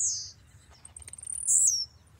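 A blue-black grassquit gives a short, high, buzzy song twice, with a quick ticking trill between, clear and fairly close over a low rumble.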